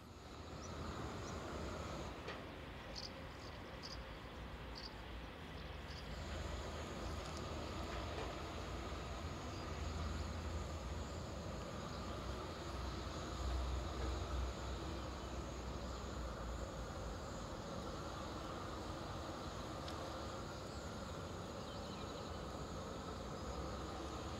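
Diesel passenger train 814116 pulling out of a station on the East Bank line near Ústí nad Labem in the Elbe River valley, a steady low engine rumble and rolling wheels, with insects chirping faintly in the background and no talk.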